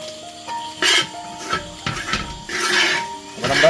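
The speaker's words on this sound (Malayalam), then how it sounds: "ആവശ്യത്തിന് നമുക്ക് കുറച്ച് ചേർത്ത് നന്നായി ഇളക്കി കൊടുക്കാം" Clam stir-fry (kakka thoran) with pepper is stirred in a pan, giving repeated scraping and clinking of a utensil against the pan in an uneven rhythm, close and fairly loud.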